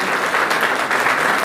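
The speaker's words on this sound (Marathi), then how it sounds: "गायकवाडजी उभा राहतात, जोरदार टाळ्या वाजवा." Audience applause for a newspaper editor at a lecture event, a steady dense patter of many hands clapping together, loud and continuous over the whole moment.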